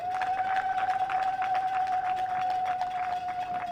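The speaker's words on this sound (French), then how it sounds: "Est-ce qu'on ne peut pas l'applaudir encore une fois de plus?" Applause and light cheering from guests at a civil wedding, a steady dense patter of clapping filling the room with a sustained tone running underneath.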